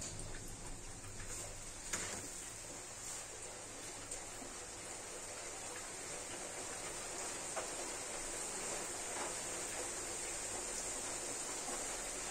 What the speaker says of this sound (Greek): Έχουμε και βροχή.